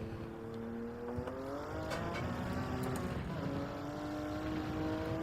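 A race car engine in Gran Turismo 7, droning steadily at high revs with the pitch slowly climbing and shifting, loud and continuous throughout with no talking over it.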